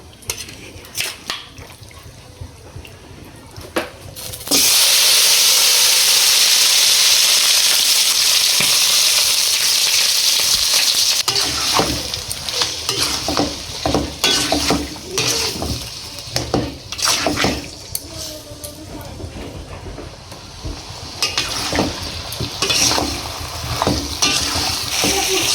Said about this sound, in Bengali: মাংসটিকে আমি খুব সুন্দর করে কষিয়ে নেব।